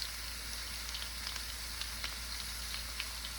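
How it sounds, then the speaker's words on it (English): Chicken pulled off the bone sizzles in a pan for leftover enchiladas, a steady close-up frying hiss scattered with small crackles and pops, with no talking. "Chicken sizzling."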